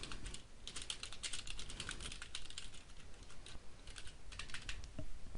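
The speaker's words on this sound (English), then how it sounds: "and begin typing your first post." Continuous typing on a computer keyboard, rapid irregular key clicks heard close and alone, with brief pauses between bursts.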